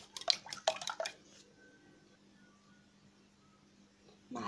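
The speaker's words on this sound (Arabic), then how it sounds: "هقلبهم كويس" Two eggs with spiced salt are stirred briskly in a bowl, giving a quick run of light clinks and wet taps that lasts about a second. Near silence follows, and a soft rustle comes at the very end.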